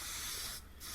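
A Devilbiss SRI Pro Lite mini spray gun sprays clear coat onto a Suzuki motorcycle tank at about 2 bar, giving a steady close hiss that dips briefly partway through before resuming.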